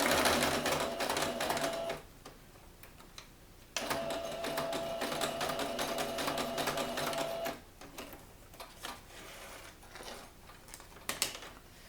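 A sewing machine stitches paper pen holder pieces crossways in two loud steady bursts of rapid mechanical whirring, separated by a short pause and followed by quieter handling sounds.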